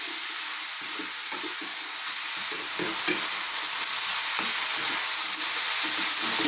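Chopped tomato fries over very high heat in a pan, a loud continuous sizzle broken by repeated scraping and tossing strokes of stirring, close up and without speech.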